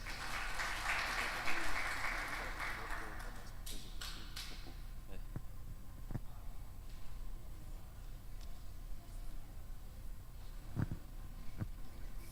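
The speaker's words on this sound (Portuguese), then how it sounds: "Aplauda, Senhor." A church congregation claps briefly at a low level, and the applause fades out after a few seconds into scattered taps and thumps in a quiet room.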